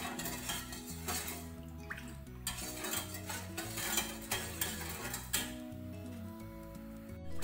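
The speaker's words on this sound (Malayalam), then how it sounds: "അപ്പോൾ അതുകൊണ്ട് കൈയെടുക്കാതെ ഇളക്കിക്കൊണ്ടിരിക്കണം." A spoon stirs an arrowroot drink of half milk and half water in a pot, giving soft, steady scraping and faint clinks against the metal under continuous background music.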